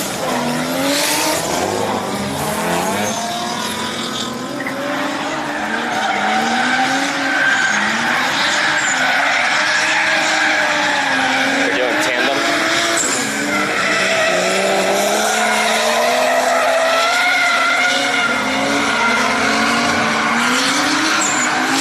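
A drift car at a drift event slides with long, loud tire squeals and a rising and falling engine wail, skidding through several sustained screeches as it spins out, with no talking.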